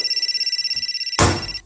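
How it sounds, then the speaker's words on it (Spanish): A cell phone rings in a repeating, bright electronic pattern of quick pulses. It then cuts off as a louder burst of noise takes over. "¿Eso fue un celular?"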